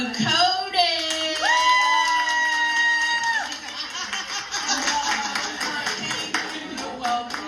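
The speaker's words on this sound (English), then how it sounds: "So, without further ado, can y'all please clap it up collectively for Cody?" A comedy club audience cheers, whoops and claps as a comedian is introduced, a loud crowd roar with whistles and shouts lasting throughout.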